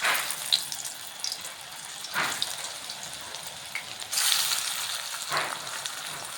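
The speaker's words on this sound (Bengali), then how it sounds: "এই যে তেলটা গরম হলে আমি ঝিঙেটা দিয়ে দিচ্ছি।" Ridge gourd pieces frying in hot oil give a steady broadband sizzle, with louder bursts of crackling as pieces are added or moved, close by and without talk.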